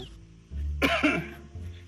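A man coughs at home in a Gujarati comedy sketch: a single short, rasping throat-clearing burst, close and clear, after a brief low hum and with no talk over it.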